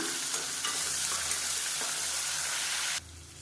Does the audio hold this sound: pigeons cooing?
no